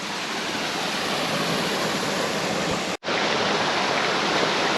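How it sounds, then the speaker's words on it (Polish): A mountain stream rushes through a built channel inside an abandoned building at Kozubnik, a loud, steady broadband roar of flowing water with one very brief dropout partway through. "Ktoś wybudował kanał dla potoku górskiego w budynku."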